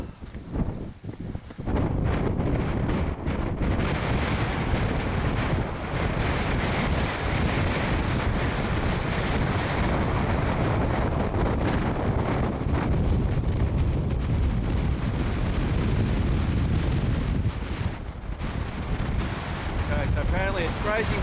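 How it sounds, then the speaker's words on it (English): Strong wind on Mount Kosciuszko buffets the microphone in a loud, roaring, continuous rumble that gusts and swells for the whole stretch. "Okay, so apparently it's crazy windy up here."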